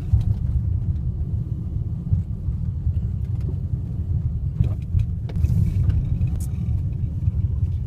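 A car rumbles along a road on a former Harmony streetcar interurban line near Pittsburgh, a steady close interior drone with low road noise and occasional faint rattles and clicks.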